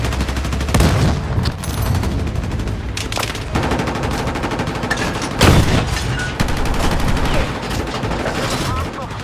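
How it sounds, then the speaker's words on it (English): Tank cannon blasts and surrounding gunfire in a Battlefield match, with heavy booms at intervals amid dense, continuous battle noise and some talk. "then I fire my loaded high explosive round and switch to AP"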